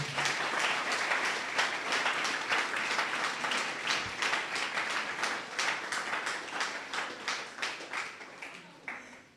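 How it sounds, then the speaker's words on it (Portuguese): A church congregation applauds together in a steady, dense round of clapping that carries on throughout and gradually thins out toward the end. "aplauda o Senhor, igreja"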